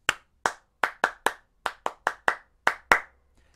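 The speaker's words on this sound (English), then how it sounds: "We can clap." Hands clapping as body percussion, eleven sharp, close claps in an uneven rhythm, played alone without talk.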